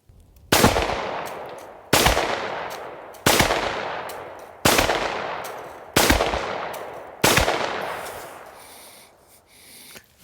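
Six single shots from a Rock Island Armory RIA 5.0E 9mm pistol fired at a silhouette target about 15 yards away outdoors, evenly spaced about 1.3 seconds apart, each a loud sharp crack with a decaying tail, no talking.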